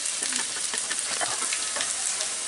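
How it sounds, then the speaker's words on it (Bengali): Finely chopped garlic fries in hot oil with minced meat in a pan, a dense close sizzle with quick crackles and light stirring scrapes throughout, no one speaking. "আধা মিনিটের মতো ভেজে আমি এর মধ্যে কতগুলা রসুন কুচি দিব"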